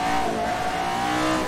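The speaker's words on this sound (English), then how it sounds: "I'm going to keep the engine sound quite loud here" A Williams racing car engine in a racing video game at Ahvenisto, a loud sustained high-pitched motor drone holding a steady rev with a faint tire hiss, heard alone.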